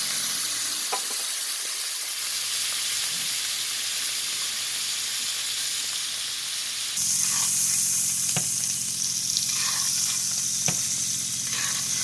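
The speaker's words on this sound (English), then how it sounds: "you're just basting it with the butter and garlic and salt mixture" Beef tenderloin frying in a pan while basted with butter, garlic and salt, a steady close sizzle and hiss that grows louder and brighter partway through as the fat is spooned over, with occasional soft clinks.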